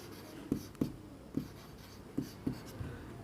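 A pen or pencil writes out HTML tags by hand, five or six short, soft scratching strokes spaced irregularly and heard close and quiet, with no talking.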